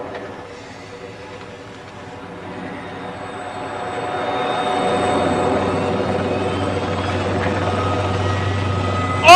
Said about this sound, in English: What's the helicopter doing there?